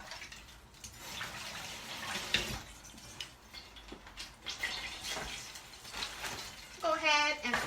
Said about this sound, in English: Alright, so let me wash my hands.